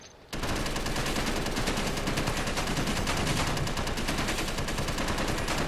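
Gunfire from a handheld gun in the space-building game Space Engineers: a loud, dense, continuous automatic burst that starts abruptly after a brief silence and hammers on steadily with no letup.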